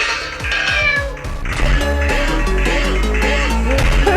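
A cat meows repeatedly in rising and falling wavering calls, close and fairly loud, over a busy, noisy indoor background.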